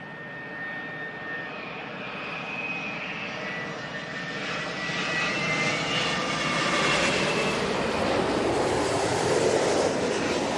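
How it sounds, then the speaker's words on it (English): A Boeing 787 Dreamliner jet arriving at London Heathrow Airport, a steady engine roar that swells louder over the seconds with a whining tonal hum, heard alone without talk. "Dreamliner in from Santiago."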